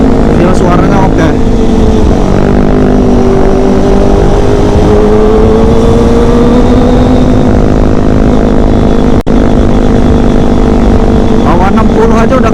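A Kawasaki ZX25RR sport motorcycle engine drones loudly while riding, its pitch rising and falling as revs change, close and continuous with wind noise.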